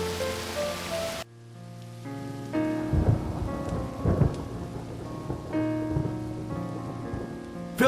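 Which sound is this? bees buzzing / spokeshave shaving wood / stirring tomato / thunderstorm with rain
thunderstorm with rain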